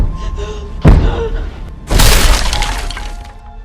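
A creature in a horror film pounding on a door: two heavy crashing blows about a second apart, the second followed by a long loud rumbling, breaking clatter.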